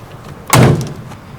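The side door of a rusty Toyota van opens with a single loud, heavy thud about midway, followed by a short rumbling tail. No voices are heard.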